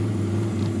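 A 1983 Volkswagen Rabbit GTI engine idles steadily at 1,000 RPM with a low, even hum and faint mechanical whir, close by and constant throughout.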